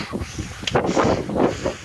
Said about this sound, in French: On entend le vent.